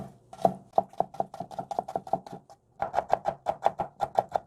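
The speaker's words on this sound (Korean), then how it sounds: "양파를 약간만 썰어주세요 이거를 쫑쫑" A knife chops onion finely on a cutting board for a pollack roe seasoning, giving a quick, even run of crisp taps that pauses briefly and then resumes at the same brisk pace.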